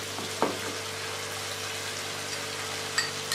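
Chicken frying in ginger garlic paste sizzles steadily as spices are added, with a couple of faint clinks over the even hiss.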